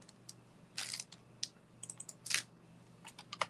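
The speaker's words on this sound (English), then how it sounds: "Let's type some text." Text typed on a computer keyboard, irregular bursts of crisp key clicks, some quick runs and some isolated presses, close and fairly quiet with no talk.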